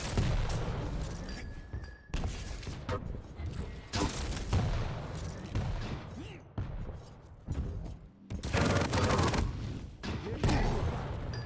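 Rocket launcher shots and explosions in a competitive arena shooter match, heard as repeated loud bursts and thumps separated by short gaps, with a commentator's voice running underneath.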